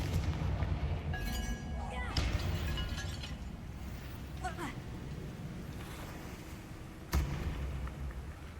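Explosive booms from the Confringo fire spell in Hogwarts Legacy, several blasts spread through dense, rumbling combat noise with a sharp burst near the end and a shouting voice in the mix.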